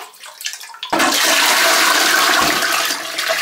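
Dirty water is poured into a toilet and flushed. A few quiet splashes lead into a sudden loud, sustained rushing flush that roars close by and then eases slightly.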